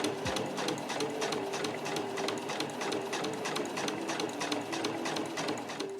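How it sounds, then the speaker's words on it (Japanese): A sewing machine stitching small fabric pieces for a trunk-style key case runs steadily with a fast, even needle rhythm, close and moderately quiet, with no talking. "このコの字で周囲を端から 5mm で縫っていきます。"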